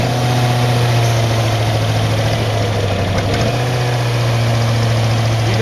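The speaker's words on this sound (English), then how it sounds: "You're gonna hear the engine doing a convulsion because it's too cold." Cold twin-cylinder Inferno Stack engine running rough and loud up close, a steady throbbing idle with uneven, shuddering pulses.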